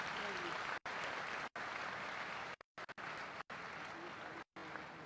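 Sustained audience applause fills a large hall at an inauguration ceremony, with dense clapping broken by a few brief gaps.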